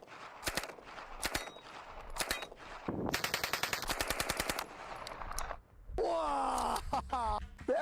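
An MP40 submachine gun fired without its stock, heard up close in short rattling bursts and a longer rapid string of shots, with a person laughing and exclaiming near the end.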